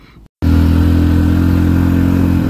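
A Hero Splendor Plus motorcycle labours up a steep hill road in Meghalaya, its single engine droning loud and close in a steady, strained hum after a brief pause.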